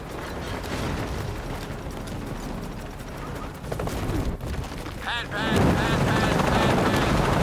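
Helicopter engine in the video game Shadow of the Tomb Raider, a steady mechanical drone under game noise and voices, growing louder and rougher near the end as the craft stalls and loses altitude.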